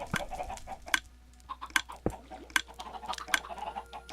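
Several Minecraft chickens cluck in scattered, uneven bursts, close and clear, with one sharp thump partway through and no voices.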